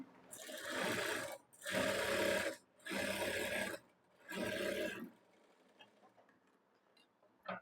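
A sewing machine runs close by in four separate bursts of rapid whirring stitches along the edge of a princess-cut blouse, each lasting about a second with short pauses between, followed by quiet handling.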